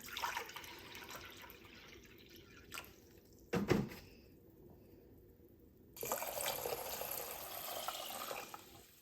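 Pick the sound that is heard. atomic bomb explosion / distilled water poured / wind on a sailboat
distilled water poured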